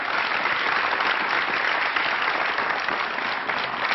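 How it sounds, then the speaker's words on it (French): Warm, sustained applause from a television studio audience greeting a guest on a 1992 French variety show, a thick uniform wash of clapping that holds steady and loud throughout. "je vous demande de l'applaudir, Monsieur Pierre Tchernia."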